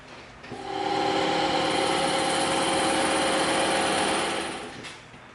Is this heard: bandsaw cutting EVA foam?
yes